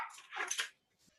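A dog barks on a Zoom call, a quick yappy burst of a few close, muffled barks followed by a faint softer yip.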